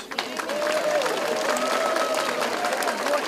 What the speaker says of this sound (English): So please join me in a warm welcome for Mayor Walsh.